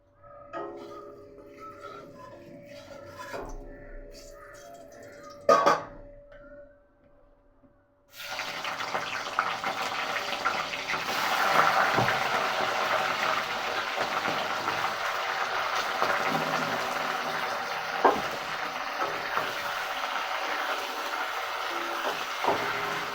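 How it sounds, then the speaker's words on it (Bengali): Shrimp drop into hot mustard oil. After a few quiet clinks, a steady, loud sizzling hiss takes over and continues to the end. "তেলটা গরম হয়ে গেছে, আমি এবার চিংড়িগুলো ছেড়ে দেবো।"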